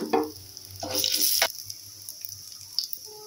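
Four dry red chillies and bay leaves dropped into hot oil with panch phoron for khichuri, bursting into a sharp, close crackle and hiss that fades to a faint simmer with occasional small pops.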